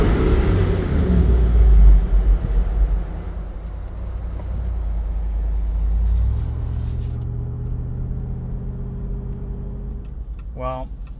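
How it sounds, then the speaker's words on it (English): A 2021 Jeep Wrangler Rubicon 392 V8 revving loudly inside a tunnel, a deep booming roar that peaks early, then settles into a rumbling idle and fades toward the end, with a brief voice near the close. "Gotta get one more tunnel rev here."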